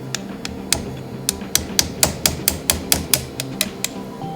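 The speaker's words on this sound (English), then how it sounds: "Cut your filter seal." A 4L60E transmission filter seal being cut out, heard as a steady series of sharp metallic taps and clicks, about fifteen in a row at a quick even pace, close and crisp with no talking.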